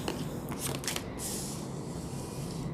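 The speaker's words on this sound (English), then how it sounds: "as I go ahead and shuffle the cards" A deck of tarot cards being shuffled by hand, a few quick riffling bursts followed by a softer sliding swish, close and fairly quiet, with no talking.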